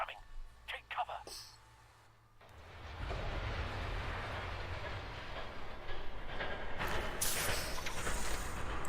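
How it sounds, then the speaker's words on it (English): A train from Batman: The Telltale Series rumbles in and grows loud, a steady rushing clatter that builds and holds for several seconds. Faint talk comes before it. "Train coming."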